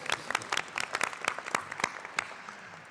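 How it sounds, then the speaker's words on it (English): Applause at a university graduation ceremony: a short burst of dense hand clapping from an audience, fairly close, fading out after about two seconds. "It's always a round of applause for Gary."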